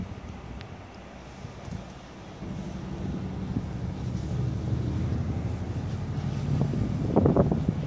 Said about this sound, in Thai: ลมพัดไปมาตลอดเวลานะครับ